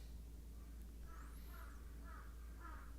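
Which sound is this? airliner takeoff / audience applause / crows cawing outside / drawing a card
crows cawing outside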